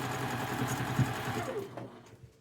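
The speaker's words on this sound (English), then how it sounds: "So I'll sew 2 of these together" Sewing machine stitching two pinwheel quilt pieces together, a steady close, fast mechanical whirr that runs continuously and slows to a stop near the end.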